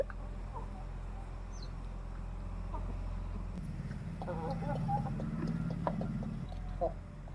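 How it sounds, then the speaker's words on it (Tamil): A pet rooster clucking in a rural yard under a cloudy sky, soft intermittent clucks over a steady low hum, fairly faint and slightly distant. "இது ரொம்ப செல்லமான சேவல்"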